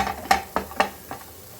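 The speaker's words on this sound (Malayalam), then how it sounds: "ഉള്ളിയും ഒന്ന് ചെറുതായിട്ട് വഴറ്റുക." Onion for spicy capsicum sautés in a pan, with several quick spatula scrapes and stirs over a soft background sizzle, close and moderately loud.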